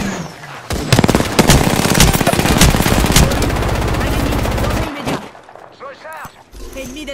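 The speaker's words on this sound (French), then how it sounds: "Je me fais tirer dessus." Loud, sustained rapid-fire automatic gunfire in an Apex Legends match, a dense continuous burst lasting several seconds, then tapering into scattered shots and game effects, with in-game voice lines heard alongside.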